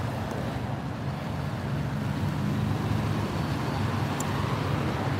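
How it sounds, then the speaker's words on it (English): Steady road traffic rumbles on outdoors as cars pass, a continuous low roar with no breaks and no speech over it. "I just had to stop because of the traffic."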